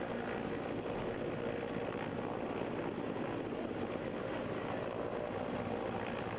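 Indian Air Force helicopter hovering over the flooded Tawi River in Jammu during a rescue of stranded fishermen, a steady, dense rotor and engine roar filling the scene without a break.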